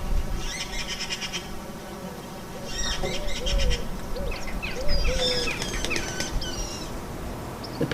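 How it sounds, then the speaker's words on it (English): Baby magpies give shrill, squeaky, whistling calls in short bursts over a steady outdoor background hum. "The baby makes crazy, shrill sounds, similar to a marine mammal."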